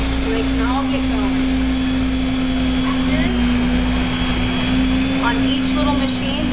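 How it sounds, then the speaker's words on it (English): A commercial milkshake spindle mixer runs steadily with a loud, constant motor whine and hum that continues without a break throughout. "It's gonna get put right up into the black knob that pushes up and then actually turns on the machine."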